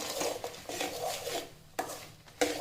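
Peanuts being stirred into thick jaggery syrup in a pan over low flame, with close, soft scraping and rubbing strokes followed by a few sharper knocks of the spoon against the pan, quiet and without speech.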